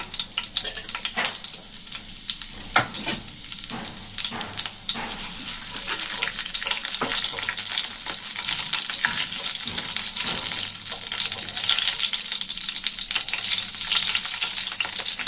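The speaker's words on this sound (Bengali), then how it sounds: "এখানে আমি তেল দিয়ে দিয়েছি, দিলাম একটা তেজপাতা, একটু জিরে" Bay leaf and cumin seeds frying in hot oil in a pan, a loud continuous sizzle with crackling pops and occasional stirring scrapes, steady throughout with no talking.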